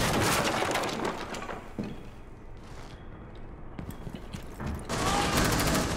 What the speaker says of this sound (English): Just shotgun the hatch.